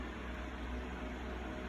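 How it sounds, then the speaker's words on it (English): An electric fan runs steadily in the background of a home kitchen, a faint, even whooshing hum with no change and no voices. "the noise you hear in the background is my fan going"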